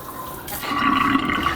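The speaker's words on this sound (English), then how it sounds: "We have a black faucet on this one with the water, and then the spray head also on this for washing dishes." Water running from a black kitchen faucet with a spray head inside a custom-built Mercedes Sprinter 4x4 van, a close, steady gushing stream that swells after a soft start and keeps flowing.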